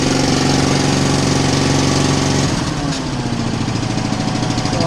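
A carpet cleaning truck's blower runs loud and steady, a dense mechanical roar with a droning engine hum, the tone shifting and dropping slightly partway through as water sprays out the exhaust.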